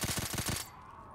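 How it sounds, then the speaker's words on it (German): Rapid burst of automatic gunfire from a weapon in Call of Duty: Black Ops 3 Zombies custom map, about six loud close shots in a tight rhythm, then a short fading tail. "der Sound der Waffe"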